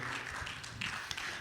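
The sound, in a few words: congregation applause in church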